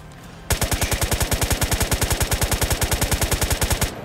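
Automatic gunfire sprayed in the survival video game DayZ: a loud, rapid, even burst of roughly thirty shots lasting about three and a half seconds, starting abruptly and cutting off cleanly, with no talk over it.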